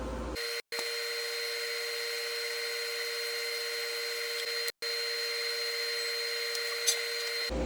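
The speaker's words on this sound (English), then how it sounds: "Gonna get her all welded." Welding on C10 four-link suspension parts gives a steady, close electric hum with bright tonal lines, broken by two short silent pauses, with no talk over it.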